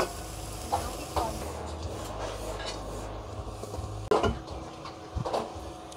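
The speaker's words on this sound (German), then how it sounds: "Und mischen und schön anbraten." Pineapple pieces and raisins stir-fried in a pan at a Thai street food stall give a faint, steady sizzle, broken by scraping stirs and clinks of utensil on pan.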